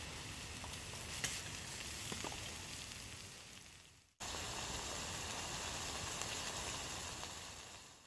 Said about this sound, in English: Hear that sizzle right off the bat?